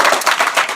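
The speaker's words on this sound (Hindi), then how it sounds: "तालियां बजाओ भैया ना, जोरदार तालियां।" Loud, rapid clapping from a coaching class crowd celebrating a weekly test winner, a brief dense burst of applause close to the listener.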